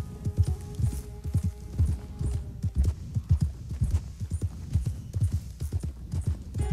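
Steady clip-clop of horse hooves trotting through snow in the video game Red Dead Redemption 2, an even rhythmic beat with a faint hum beneath.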